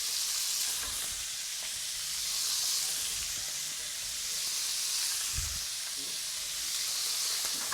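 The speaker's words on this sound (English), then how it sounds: "You can finish browning." Beef browning for beef bourguignon sizzles steadily in a hot pan, a close, continuous frying hiss with occasional low thumps and scrapes as the pieces are moved.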